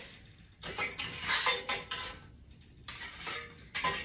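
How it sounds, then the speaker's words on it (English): Clinking and scraping of utensils against a dish as cornbread hoe cake is put on a plate, a few soft knocks and clatters at close range in a quiet kitchen. "here's our cornbread, and I'm going to put it on a plate"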